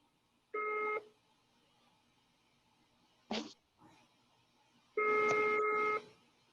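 Telephone dialing tones while placing a call: two clear electronic tone bursts about a second long, separated by a brief clatter, close and distinct against near silence.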